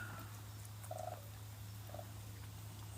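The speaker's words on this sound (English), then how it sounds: "I like the little chirps these guys make." Two short, soft trilling chirps sound a second apart over a steady low electrical hum, faint and close.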